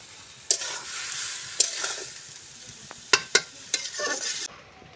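Koi fish with kulekhara greens being sautéed in a pan: a soft hiss of frying with several sharp spatula knocks and scrapes against the pan, close up, with no talking.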